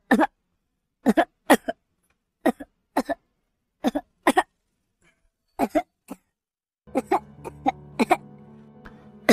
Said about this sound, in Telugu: ఏంటి ఎవరో దగ్గుతున్నారు, ఏమైందంటావు అసలు?